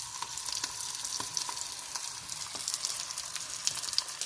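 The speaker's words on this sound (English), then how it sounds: "Definitely has a different kind of sizzle with the buttermilk" Steak cooked with buttermilk sizzling in a frying pan, a steady close crackle with scattered sharper pops and spits, heard alone without talk.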